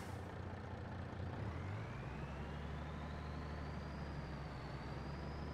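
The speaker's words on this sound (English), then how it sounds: "Quite a turbo whistle this truck has." Truck engine in Farming Simulator 22 droning steadily with a faint rising turbo whistle climbing above the rumble as the vehicle accelerates, continuous and moderately quiet.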